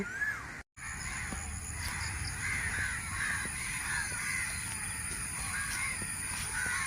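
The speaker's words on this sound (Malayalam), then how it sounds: "എന്നാലും നിങ്ങൾക്ക് ഈ കിളികളുടെയൊക്കെ ശബ്ദം നിങ്ങൾക്ക് കേൾക്കാൻ പറ്റുള്ളൂ" Crows caw repeatedly by a riverbank in Kerala, a steady series of harsh calls from several birds at moderate distance, with a brief dropout near the start.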